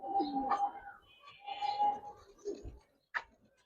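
Giribaz silver military hammer pigeons in a loft, with soft cooing calls and light fluttering near the mic, then a sharp tick or wing clap near the end.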